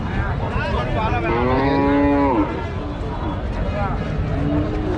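A cow at a crowded livestock market gives one long, loud moo close by, with a constant murmur of people talking behind it and more faint lowing afterward.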